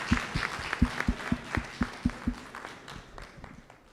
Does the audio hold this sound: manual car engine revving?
no